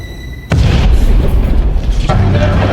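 A sudden loud boom from an explosion at a hotel in an action film, hitting after a quieter moment and rumbling on with a second burst a moment later, deep and close.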